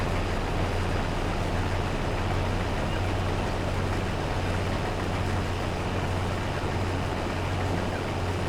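A combine harvester works a field in Farming Simulator 22, a loud, constant, unbroken engine drone with a heavy low rumble that holds steady throughout.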